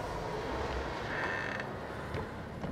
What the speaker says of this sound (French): la porte vient de s'ouvrir ici